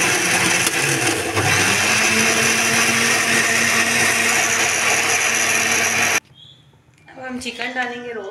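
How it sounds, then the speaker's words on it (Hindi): A blender grinds tomatoes for a chicken korma with a loud, steady, close whirring for about six seconds, then cuts off abruptly, followed by a person talking. "और अब इसी में टमाटर, और इसको हम ग्राइंड कर लेंगे।"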